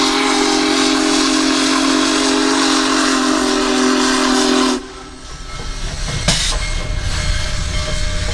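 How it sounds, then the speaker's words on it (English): Union Pacific 4014 Big Boy steam locomotive sounding its deep, loud whistle in one long sustained blast that cuts off abruptly, followed by rumbling rail noise and a brief clank. "You can feel that whistle right in your chest."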